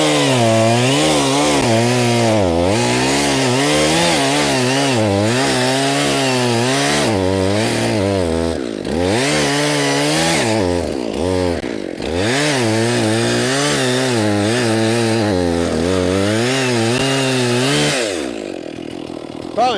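A chainsaw with a dull chain bucks logs and cuts stumps flush with the ground in the woods, running loud and close with its engine pitch rising and bogging under load, then idling down near the end.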